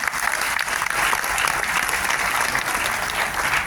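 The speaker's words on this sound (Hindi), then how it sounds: "अपने लिए एक बार जोरदार तालियां हो जाए" Loud, sustained applause from an audience at a Hindi-language talk, dense clapping running steadily for the whole stretch without pause.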